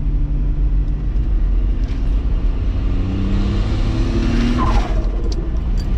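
A turbocharged VR6 wagon engine roars loudly as it accelerates hard, a continuous close powerful drone rising in pitch over several seconds.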